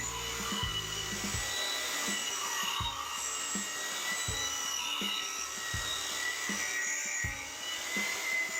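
A rotary buffer works over Chevy SS car paint after 3000-grit wet sanding, giving a steady mid-distance whine and whir with repeated low thumps as the pad shifts against the panel, running throughout with no talk.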